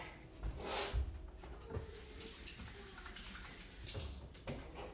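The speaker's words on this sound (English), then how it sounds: "Rinse my hands off from the egg yolk." Hands rinsed under a running kitchen tap after cracking eggs, a steady close hiss of flowing water with splashy bursts and small clinks, no talk.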